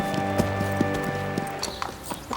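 Hoofbeats of a purebred Spanish horse performing a dressage dance, with regular clopping steps over a steady musical backdrop, moderately loud and close.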